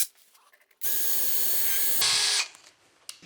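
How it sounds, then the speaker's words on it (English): A power drill drives a screw while building a woodworking crosscut sled: one close, loud whirring burst of about a second and a half that rises in pitch near the end before cutting off, with quiet before and after. "now that it's right where I want it, I can put in my other screw"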